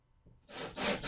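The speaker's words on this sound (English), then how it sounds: "Get my little drill here, drill bit to make me a little pilot hole there." After a quiet moment, a close grinding, rasping noise starts up as a small drill bores a pilot hole into a wooden storage chest, growing louder and rougher.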